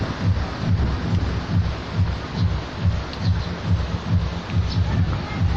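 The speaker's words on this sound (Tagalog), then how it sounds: "Malakas ang hangin, nagasayaw-sayaw ang puno ng niyog." Strong, steady wind roaring and buffeting the microphone, with a rhythmic low rumble and faint rustling of coconut palm leaves throughout.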